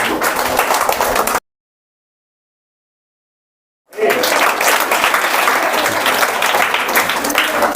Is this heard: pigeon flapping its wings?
no